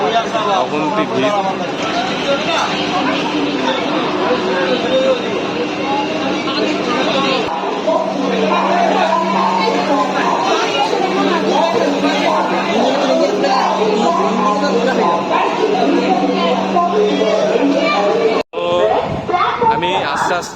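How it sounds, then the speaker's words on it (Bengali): Dense crowd outside Puri railway station, a loud continuous babble of many voices and shouts close around, with a steady low hum running underneath. "অগুন্তি ভিড়।"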